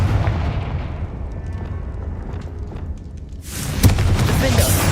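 Confringo fire spell explosion in Hogwarts Legacy: a loud, sudden blast bursts in near 3.5 seconds and stays as a full roar with a sharp pop, following quieter rumbling game sound.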